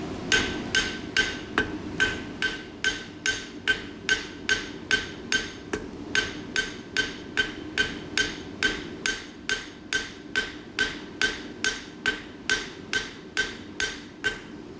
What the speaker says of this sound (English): Now if you're noticing the angle that my hammer blow is coming in, so it's actually arcing backwards.